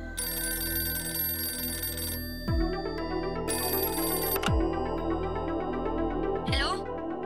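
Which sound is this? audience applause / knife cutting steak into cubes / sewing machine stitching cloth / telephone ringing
telephone ringing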